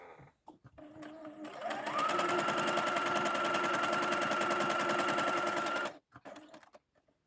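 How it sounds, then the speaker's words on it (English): Sewing machine stitching faux fur fabric with a slightly longer stitch length: a steady, close mechanical whir with rapid needle chatter, running continuously for about four seconds after a short start-up, then stopping. "you're going to sew with a slightly longer stitch length"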